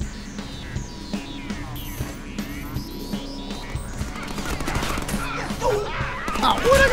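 Rapid gunfire from the Deadpool video game in shotgun mode, a busy clatter of shots and impacts under a voice talking, building louder and denser toward the end with chaotic action noise.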